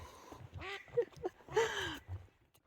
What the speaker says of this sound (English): Too funny, that duck.